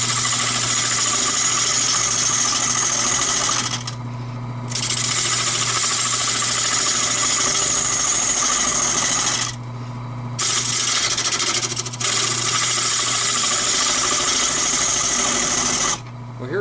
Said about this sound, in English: This little mini lathe, if you're doing small stuff, is a great lathe for beginners